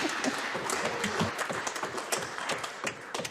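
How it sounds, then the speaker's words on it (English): Applause fills a parliament chamber, many hands clapping steadily and fairly close for a few seconds, an even patter with no talk over it. "It's always as well to get the applause in first"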